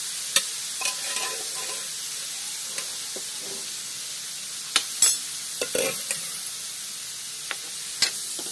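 Cooked dal mixture being stirred in a pan for a sweet jaggery-coconut filling, giving soft scraping and light sizzling throughout with several sharp clicks of the spoon against the pan, close and fairly quiet.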